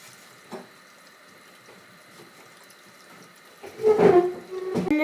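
A kitchen tap runs while hands are washed, a quiet background trickle that swells into louder gushing and splashing over the last second or so, with no talking.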